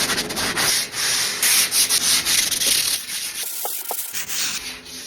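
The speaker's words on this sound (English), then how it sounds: "I'm just going to give it like a really quick sand" A primed wooden coffee table is sanded by hand with 100 and 120 grit sandpaper, giving loud, close, rhythmic rasping strokes that pause briefly and then resume.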